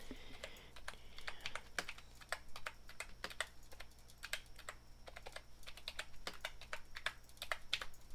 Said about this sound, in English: If you guys can hear the keyboard, it sounds so good.